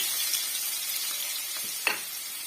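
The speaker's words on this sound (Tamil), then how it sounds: "இந்த நெய்யிலே வந்து ஒரு அளவுக்கு இந்த பைனாப்பிள் வந்து வதங்கி வரணுங்க அது வரைக்கும் நம்ம வறுத்து விட்டுக்கலாம்" Small pineapple pieces fry in hot ghee for pineapple kesari, giving a steady, close sizzle with one brief sharper crackle or stir near the end.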